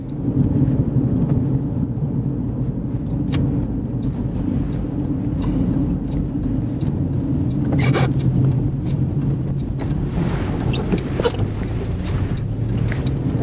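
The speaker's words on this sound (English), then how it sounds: "there's lots of traffic coming up here behind me" Steady road rumble heard from inside a car in a left-turn lane while traffic comes up behind it, a continuous low drone with a few brief clicks and swells, no voices.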